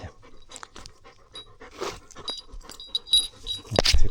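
A young Patou dog pants close by in quick, irregular breaths, mixed with small rustles and jingling sounds, with no talk.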